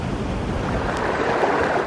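Floodwater from a river runs freely through a town after torrential overnight rain, a steady broadband rush and roar that stays loud and even throughout, with no voices.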